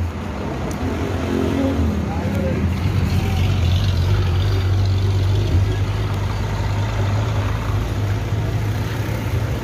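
A goat-delivery vehicle's engine drones with a steady low rumble throughout, loud and close, with a faint broadband road and wind noise layered over it.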